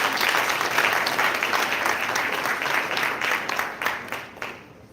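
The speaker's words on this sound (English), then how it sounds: "the clap sounded good out there" Applause from an audience at a press conference for the 10th annual National Battle of the Bands, a dense, steady crowd of clapping that stays loud throughout and thins slightly toward the end.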